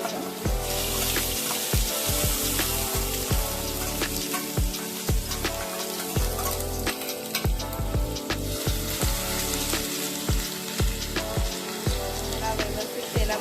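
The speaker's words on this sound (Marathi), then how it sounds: "व्यवस्थित तेलामध्ये परतून घेऊ" An onion and garlic masala paste fries in oil with red chili powder for Punjabi paneer curry, giving a loud, steady, continuous sizzle close up with a low tonal layer underneath, and no talk.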